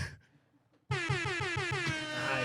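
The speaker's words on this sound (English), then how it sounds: "Oh, you brought an air horn." A loud, blaring air horn bursts in after a brief quiet stretch and holds a long continuous note, close and overpowering.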